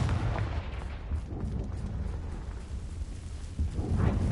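A Confringo fire spell exploding in Hogwarts Legacy, a heavy rumbling blast with a sustained low roar that swells again near the end, with no voices.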